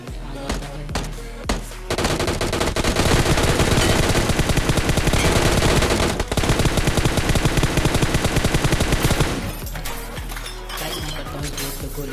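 Dense, loud bursts of automatic gunfire with clinking and shattering sounds fill most of a BGMI (Battlegrounds Mobile India) match near a boat, preceded and followed by scattered single shots.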